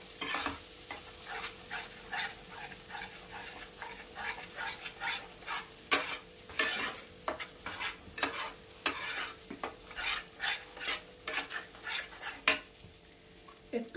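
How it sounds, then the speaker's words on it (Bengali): Spices for a mushroom dish without onion or garlic are sautéed on a low flame, with a soft sizzle under a steady run of scraping spoon strokes against the pan, some sharper clinks standing out. "একটু লো ফ্লেমে আমি এটাকে কষিয়ে নেব।"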